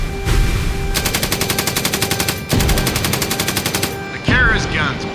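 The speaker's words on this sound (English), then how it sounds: "The carrier's guns blaze as they fend off the Zeros, while Johnson and Taylor work frantically t" Rapid machine-gun bursts from an aircraft carrier's anti-aircraft guns firing at Zero fighters in a wartime game scene, loud and sustained in two long rattling volleys with a brief gap, ending in a swell of noise.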